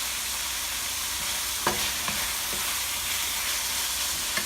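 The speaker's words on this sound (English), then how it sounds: "After we stir fry the beef about 2 to 3 minutes" Beef stir-fried with Chinese broccoli leaves in a hot pan for a Cambodian flat rice noodle dish, giving a constant close sizzle with a few soft scraping clicks of the utensil against the pan.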